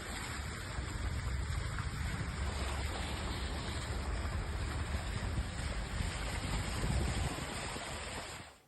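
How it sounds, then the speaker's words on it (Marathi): Vehicles pushing through knee-deep floodwater on a road in Kalyan during heavy rain, a continuous loud rushing wash of water and engine rumble that fades at the end, with no talk. "गुडघाभर पाण्यातूनच या वाहन चालकांना देखील वाट काढावी लागते आहे"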